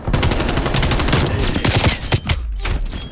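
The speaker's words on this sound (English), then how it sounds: "My first time trying to use a shotgun." Shotgun blasts from Call of Duty Black Ops Cold War gameplay, a rapid dense string of loud booming shots over about three seconds, with no pauses and a brief lull near the end.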